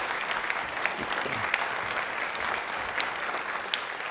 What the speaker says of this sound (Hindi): प्लीज एक बार तालियां सर के लिए जोरदार